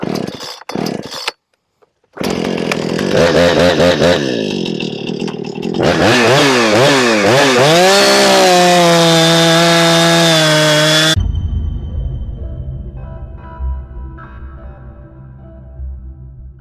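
A large Holzfforma G660 chainsaw starts up and roars loudly, its pitch rising and dipping as it cuts noodles along a log, then cuts off, leaving quiet rustling.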